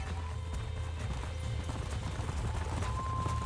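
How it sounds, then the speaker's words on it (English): Horses galloping in the Western video game Red Dead Redemption: rapid, rhythmic hoofbeats drum steadily over a low rumbling bed, close and continuous, with no voices. "There's the horses! Get that lasso ready!"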